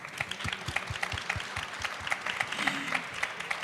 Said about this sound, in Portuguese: Vem para cá, recebe os nossos aplausos.